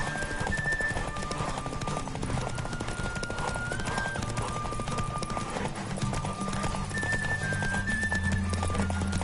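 Galloping horse in The Witcher 3, hooves pounding in a fast steady rhythm up close, with a few whinnies and a game music bed running throughout.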